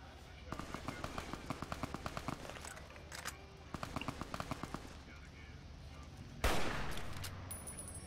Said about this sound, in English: I think I shot the wrong guy.